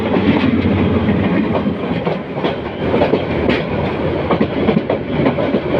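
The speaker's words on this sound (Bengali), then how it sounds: "ঢাকা অভিমুখী চট্টগ্রাম মেল, যেটি চট্টগ্রাম থেকে ছেড়ে আসছে ট্রেনটি কমলাপুর রেল স্টেশনে প্রবেশ করছে।" The Chattogram Mail train, coming from Chattogram, rolls into Kamalapur railway station in Dhaka with a loud, continuous rumble and rhythmic clickety-clack of wheels over rail joints, heard close by.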